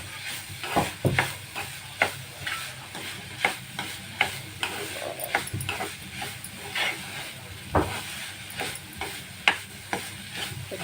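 Grated coconut being stirred and sautéed in a pan for a beet, carrot and coconut vadi, with a steady close sizzle and repeated scraping strokes of a spatula against the pan.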